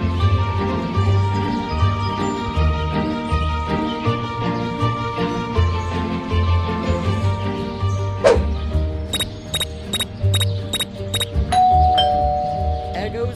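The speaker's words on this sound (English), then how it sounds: "There goes that stupid bell again." A doorbell rings in the Scary Teacher mobile game on Android: a quick run of bright, repeated electronic chime pulses sounds midway through, fairly loud over steady game background sound and voice.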